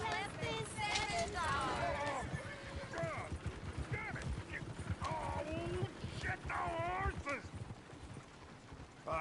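Horses in Red Dead Redemption 2 clip-clopping steadily with repeated whinnies and squeals, close and loud, under a busy mix of speech throughout.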